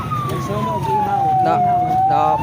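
A fire truck siren wails steadily at a town fiesta, with a slowly falling, then rising pitch, loud and continuous against background noise.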